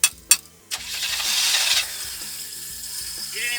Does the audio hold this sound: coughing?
no